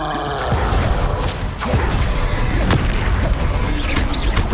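A Confringo blasting spell explodes in the Hogwarts Legacy video game, with several heavy booms and crashing impacts in quick succession over rumbling combat noise, loud and close.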